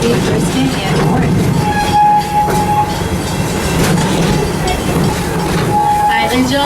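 Riding aboard the Serengeti Express at Busch Gardens, the train rumbles and clacks steadily along its track with tonal squeals or whistle-like notes, while a voice speaks intermittently over the running noise.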